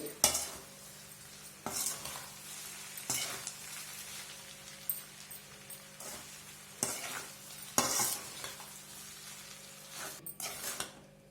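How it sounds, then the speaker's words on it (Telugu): A spoon repeatedly stirs and scrapes instant hot and spicy fried rice mix in a sizzling pan, giving close, irregular scraping strokes every second or two over a soft continuous fry. "ఇప్పుడు ఈ రైస్ని అంతా ఒకసారి కలుపుకుందామండి"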